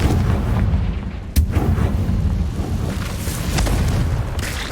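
A Confringo fire spell explodes in the video game Hogwarts Legacy, a sharp, booming blast followed by further bursts over a dense, rumbling game soundscape with no talking.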